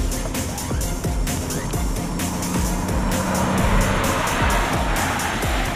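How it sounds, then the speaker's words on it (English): A Mercedes-AMG GL63 SUV corners hard on a racetrack, its engine droning loudly and steadily with repeated tyre squeal under load, close and continuous throughout. "I'm going through a corner at the track in the GL63"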